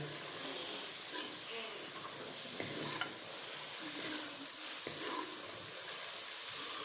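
Chicken and pumpkin stir-frying in a pan, a steady close sizzle with scraping stirs and occasional clicks of the spatula, continuous for several seconds with no talking.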